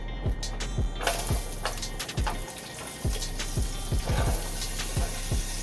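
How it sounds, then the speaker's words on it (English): Mushrooms and onions frying in a hot pan for a vegan steak dish, a steady close sizzle broken by repeated clinks and scrapes of a utensil stirring against the pan. "I'm going to throw in my mushrooms and onions"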